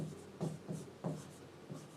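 Marker or chalk writing on a board while a maths equation is being worked out, a few quick, soft scratchy strokes in an irregular rhythm, faint and close.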